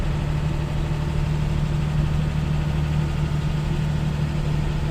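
A car engine runs steadily at close range, a constant low, even drone with no change in pitch or rhythm and no voices over it.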